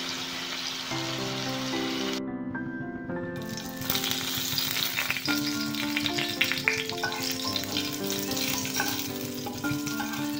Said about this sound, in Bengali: তো হলুদ নুন মেখে মা এখন মাছটা ভাজা করছে।